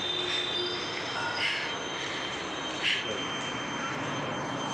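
Wheels of a Hyderabad metro train squeal steadily on the rails, a high, continuous metallic whine over a rumbling carriage, with a couple of brief louder swells.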